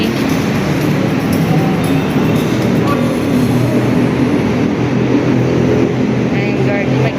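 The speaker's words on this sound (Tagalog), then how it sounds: "Ang tagal ng aming LRT." A Manila LRT light rail train rumbles steadily past at close range at Doroteo Jose station, a continuous loud mechanical roar with faint voices in the background.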